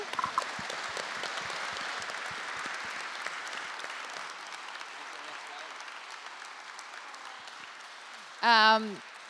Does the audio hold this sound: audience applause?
yes